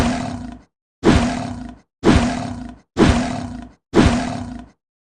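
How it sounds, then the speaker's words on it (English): A lion gives five deep, powerful roars, evenly spaced about a second apart, each loud and close with a rough, grunting texture and clean silence between them. "It's a lion."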